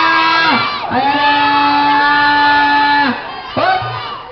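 Children at a first-birthday clown show shouting out their favorite colors together, a loud close crowd yell in long sustained bursts with a short pause before another shout rises.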